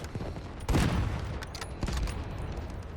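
Gunfire in the Delta Force shooter game, with a loud burst of shots near the start followed by scattered further reports and a second burst, over steady game ambience.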